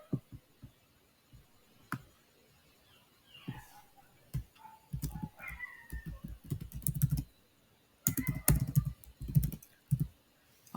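Irregular bursts of computer keyboard typing, close and clear, with quick clusters of keystrokes separated by short pauses as JavaScript code is entered.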